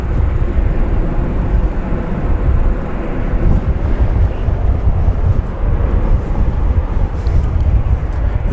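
An American Airlines Airbus A321 arriving at Dallas Fort Worth airport, heard as a loud, broad, continuous engine roar with heavy low rumble and wind-like buffeting, close by and unbroken.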